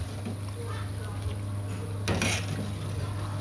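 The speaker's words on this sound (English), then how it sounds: "Be careful, you're dealing with hot oil, so you keep stirring until you have the consistency you want." A utensil stirs puff-puff dough balls frying in hot oil, giving light scraping and clinking over a steady low hum, with a brighter rattling burst partway through.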